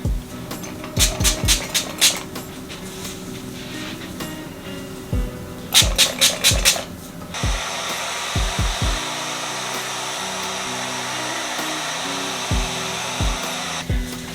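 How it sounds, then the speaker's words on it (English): A hair dryer running steadily for several seconds while drying hair, blowing loud and close, broken by a few short clicks and handling bumps early on before settling into a continuous whoosh. "So I'm going to just dry my hair."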